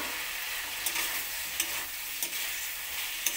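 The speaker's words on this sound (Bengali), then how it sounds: "এরপর দিয়ে দেবো ভেজে রাখা আলু কুমড়োটা।" Fried potato and pumpkin tossed into a pan for an egg and pickle curry, a close, continuous sizzle with a few sharp stirring knocks.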